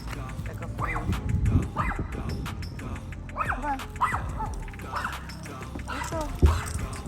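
A dog barks and whimpers in short bursts, close by, with a person talking over and between the yelps throughout.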